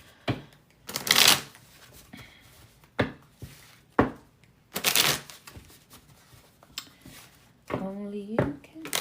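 Playing cards being shuffled in several quick riffling bursts, with softer handling taps between them, close and fairly loud.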